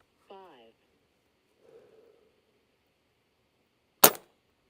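A Komplete NCR .22 air rifle fires a pellet with one sharp, loud crack near the end. Before it there is a brief murmur of voice and a faint rustle in otherwise quiet surroundings.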